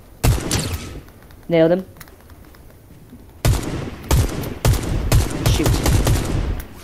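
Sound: gunfire in the video game Fortnite

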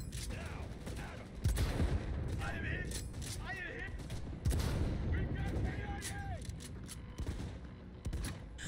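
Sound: machine gun fire in video game Cyberpunk 2077

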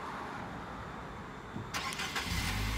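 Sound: car engine starting by remote start

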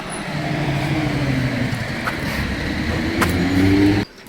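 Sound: bus approaching from across the road

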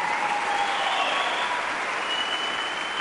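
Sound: audience clapping for the Calgary Flames PR staff

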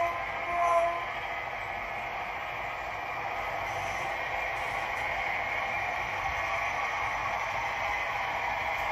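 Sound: HO scale model train running

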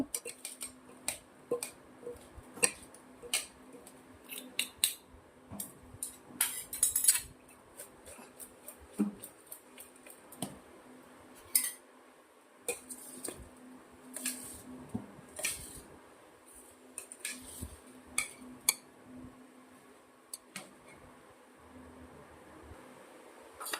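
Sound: spoon mixing moong chana chaat in a bowl

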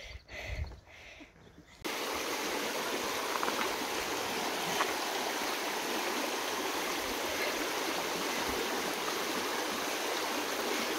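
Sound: stream of water on the Appalachian Trail

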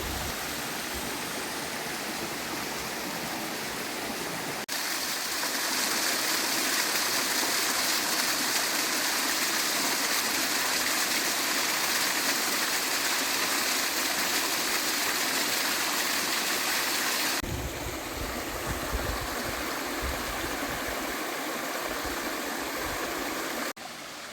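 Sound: Kollabailu waterfalls near Madanapalle

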